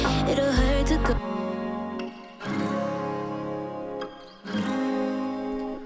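Strummed acoustic guitar chords sound in three sustained phrases separated by short pauses, each ringing out warmly and decaying, played alone with no voices over them.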